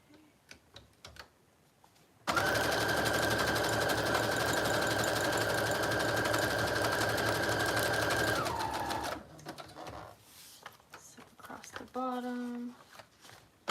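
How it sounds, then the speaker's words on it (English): A sewing machine runs steadily and close for several seconds, stitching lace onto the side of a French journal, then stops, followed by quiet handling sounds and a short chirping tone. "I'm gonna go ahead and sew the lace on the sides here."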